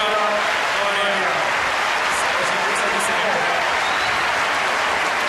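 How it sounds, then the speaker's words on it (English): Muted applause from the tennis crowd in Rome after Coria's straight-sets semifinal win over Agassi in 2005: a steady, even wash of distant clapping, with a commentator's voice faintly underneath. "muted applause, one has to say, for the Coria victory here"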